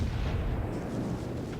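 Heavy battleship gunfire from the Gneisenau in World of Warships, a dense, booming low rumble that fills the moment loudly without any voices.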